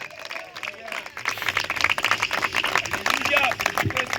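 A church congregation claps in a lively, uneven rhythm while voices and crowd noise mix in, building in loudness after the first second.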